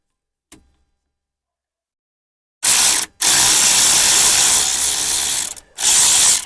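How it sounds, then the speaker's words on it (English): A socket wrench ratchets loose the bottom brake caliper bolt on a Vauxhall Vivaro, a loud close clicking burst in two long runs after a brief tap and silence, with no talking. "So we take this bottom bolt out completely."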